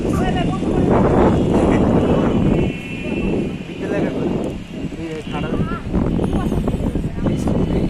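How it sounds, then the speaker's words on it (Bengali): Strong wind buffets the microphone on a Dhaka rooftop overlooking street clashes in Jatrabari, a loud, continuous low roar that swells and dips throughout, with voices talking over it. "বাতাস আছে রই"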